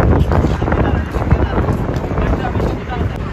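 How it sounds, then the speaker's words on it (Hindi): Cold wind gusts outdoors at a crowded bus stop in the evening, rushing and buffeting loudly and closely with irregular surges. "ठंडी हवा चल रही है।"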